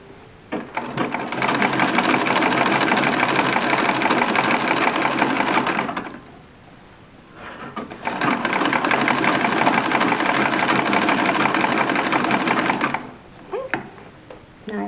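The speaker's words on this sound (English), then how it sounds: "I'm going to go right ahead and sew some bias, the self fabric bias, to the, what's going to be the inseam" A sewing machine stitches the inseam of period-correct wedding drawers, with self-fabric bias attached, in two long, steady, close runs of rapid mechanical whirring separated by a short pause.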